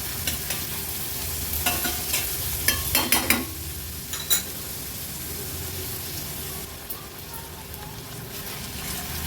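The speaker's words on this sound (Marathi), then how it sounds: "कांदा, मिरची, आलं, लसूण व्यवस्थित आपल्याला शिजवून घ्यायचं आहे" Onion, chili, ginger and garlic frying in a pan over a low-to-medium flame: a continuous sizzle, with a cluster of scraping stirring strokes midway and no talk.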